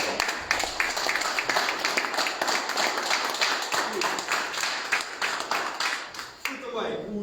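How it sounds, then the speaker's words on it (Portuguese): Audience applause during a guided museum visit about Portugal's World Cups: rhythmic, fairly close clapping from a small group, running steadily for several seconds. "Para quem eu também peço aqui uma salva de palmas,"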